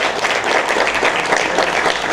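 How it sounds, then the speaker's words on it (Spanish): A crowd at a civic honoring ceremony in Constanza applauds in a short, dense burst of many hands clapping, loud and steady throughout. "quiero un aplauso para ella"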